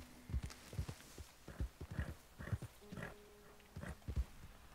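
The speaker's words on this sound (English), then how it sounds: "A horse here." Horse hooves clip-clop in a video game, a run of uneven thudding steps at a walking pace, close and fairly distinct, with a few faint tonal sounds between them.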